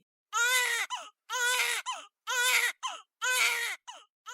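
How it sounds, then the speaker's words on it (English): A young baby cries in four loud, wailing bursts, each followed by a short catching sob, heard up close and alone. "the sound of that baby crying means it's time for this week's segment"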